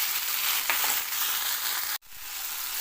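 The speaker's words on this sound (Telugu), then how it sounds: "టమాటా సాఫ్ట్గా అయ్యే వరకు ఉడికించాలి." Tomatoes and garlic cloves cooking in a pan for a cucumber chutney, giving a continuous bright frying sizzle that cuts off abruptly about two seconds in and then resumes more quietly.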